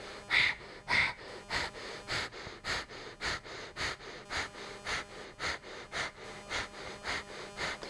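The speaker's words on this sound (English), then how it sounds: "And we're going to do breath of fire." Rapid, forceful breath-of-fire breathing during a Kundalini yoga session: a steady train of sharp nasal exhales, about two per second, close and fairly loud, with no talking.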